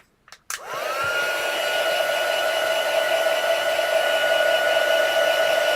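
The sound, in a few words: heat tool drying a craft piece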